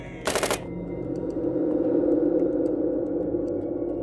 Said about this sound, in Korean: 간간히 총소리와 비명만 들릴 뿐이었다